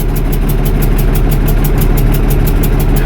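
A 1978 International Harvester 1586 tractor runs after a cold start on a snowy farm, its engine loud and close, with a steady, fast rhythmic diesel chug and no voices.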